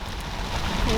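Rain or hail patters on a convertible car as it drives in Hawaii, a dense, close drumming wash that swells slightly louder toward the end, with a voice faintly present beneath it.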